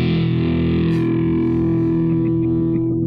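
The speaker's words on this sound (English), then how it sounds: "So here's a power chord in standard tuning." A distorted electric guitar strikes a single power chord in standard tuning, played loud and close, ringing out as one sustained, buzzy chord for about three seconds while its bright upper edge slowly fades.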